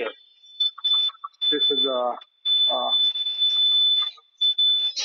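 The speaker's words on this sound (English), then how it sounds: "The alarm on and some information for the alarm will display here." An automatic linear double-track capping machine with a roller capper sounds a steady high-pitched alarm beep, continuous with brief gaps, while a person speaks over it.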